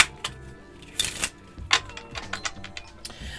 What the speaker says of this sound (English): All right, I have shuffled enough.